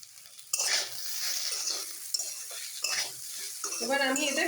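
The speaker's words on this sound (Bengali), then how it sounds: "আলুটা ভালো করে ভাজা হয়ে গেছে" Potatoes for a white potato curry sizzle steadily in a pan while being stirred, with close scraping and clinking of a utensil against the metal throughout.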